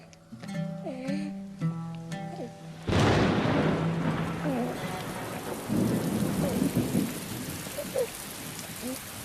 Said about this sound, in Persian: این باران هم از برکت قدوم توست فرزندم.